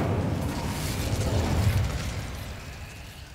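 Incendio fire spell cast in the Hogwarts Legacy video game, a low rumbling burst of flame that swells and then fades, heard close and alone.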